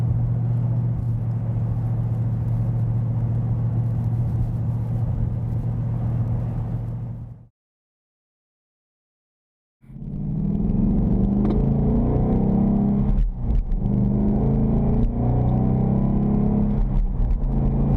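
Steady low exhaust rumble of a 2015+ Ford Mustang GT with an axle-back exhaust and 3.73 gears cruising at about 60 mph, broken by a couple of seconds of silence before the drone resumes.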